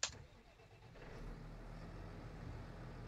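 A New Holland T6000 series tractor engine in Farming Simulator 19 idles with a quiet, low, steady rumble after a brief click at the start.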